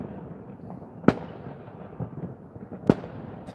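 New Year's Eve fireworks launched on open waste ground, two sharp distant bangs with a low rumbling crackle of other bursts between them.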